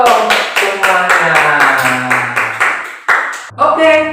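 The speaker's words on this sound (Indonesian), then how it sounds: "Tepuk tangan dong semuanya" A Sunday school congregation of children and adults claps along in steady rhythmic beats, near and lively, with a voice carrying over the claps toward the end.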